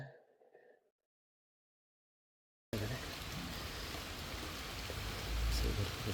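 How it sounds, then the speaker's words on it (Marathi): Heavy rain pours down steadily during a farm job, a loud, dense wash of noise that cuts in abruptly after a short stretch of faint sound and silence, then continues unbroken to the end. "खूप जोरात पाऊस आलेला आहे आणि मी अर्ध्याच्या वर भिजलेलो."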